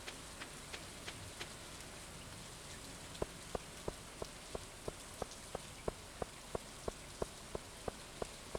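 Rain falls in a video game as a steady, faint hiss, with regular ticking drops clicking at an even rhythm, and no voices over it.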